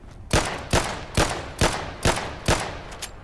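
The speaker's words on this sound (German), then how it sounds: "Ach so, der zieht dann einfach nur automatisch durch." Fully automatic gunfire from a weapon in the video game Fallout London, seven sharp bursts spaced at an even rhythm about every half second, loud and close with no talking.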